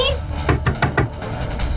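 Four firm knocks on a house door, evenly spaced about a sixth of a second apart, heard over steady low room hum, with no talking during the knocks.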